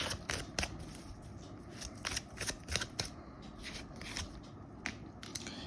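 Tarot cards are shuffled and drawn up close, a run of crisp riffling flicks and soft slaps in an uneven rhythm, with no talking.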